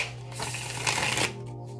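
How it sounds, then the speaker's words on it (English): A deck of tarot cards being shuffled on a lap, giving a steady papery riffling and flutter close by that swells through the middle and then tails off, with a faint hum underneath. "Do a little shuffle on the lap."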